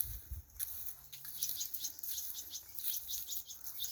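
Birds chirping on a smallholding where ducks are kept, a series of quick, faint high tweets repeating over quiet outdoor background with a couple of soft thumps early on.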